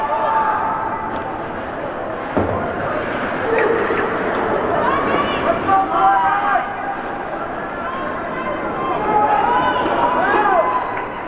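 Crowd noise fills a hockey arena during a high school championship tournament game, a steady echoing roar and babble with rising swells, close and continuous throughout.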